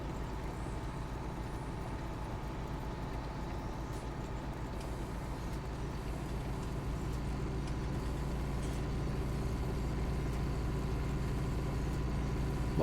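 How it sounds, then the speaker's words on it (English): A tractor engine in Farming Simulator 19 idles and drones steadily, a low continuous hum that holds at an even loudness throughout, with faint clicks on top and no talking. "do like how this tractor sounds as well."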